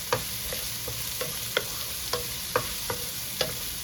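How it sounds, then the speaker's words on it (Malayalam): Capsicum and other vegetables are sautéed in a pan, with a utensil tapping and scraping in a regular rhythm over a faint steady sizzle, close and fairly quiet. "ഇതെല്ലാം ചേർത്തൊന്ന് വഴറ്റുക"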